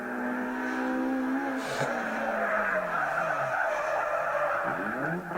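A rally car skidding through a stage: a loud, sustained engine roar with a rising and falling pitch, gravelly tire skid noise and wavering tones as the car slides past, with no talking.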